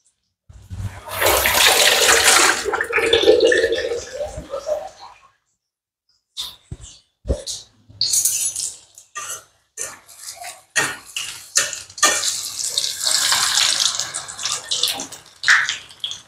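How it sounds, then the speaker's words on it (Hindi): A besan-coated sandwich lowered into hot oil, setting off a loud hissing sizzle that fades, then returns as bursts of crackling and spattering frying. "अब धीरे से इसे हम अपने तेल में डाल देंगे।"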